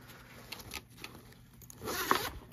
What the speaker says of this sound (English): The zipper is good.